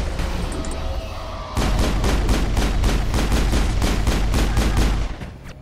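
Rapid gunfire from Geth enemies in the video game Mass Effect breaks out suddenly after a quieter stretch, a loud, dense run of sharp repeated shots and bursts that keeps hammering for several seconds before cutting off.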